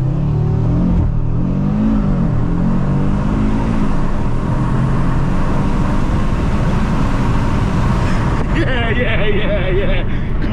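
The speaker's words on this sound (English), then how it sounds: "Did someone say launch control?" A 2023 Audi RS3 accelerates hard from a launch-control start, its engine roaring loud and close inside the car and rising in pitch through the gears, with voices heard over it.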